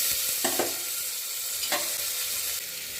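Tomatoes dropped into a hot pan of onion, chilli, garlic, turmeric and rasam powder for rasam, with a steady sizzle and a few short scraping stirs, close and alone.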